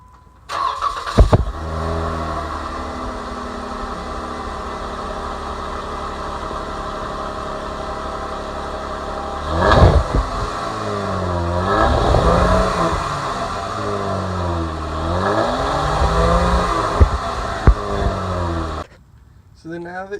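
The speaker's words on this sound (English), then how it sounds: "So let's do a little exhaust clip and let you hear it." A Jeep engine idles steadily, then revs up in a few throaty bursts, with rising and falling exhaust tones from a budget aftermarket exhaust before cutting off near the end.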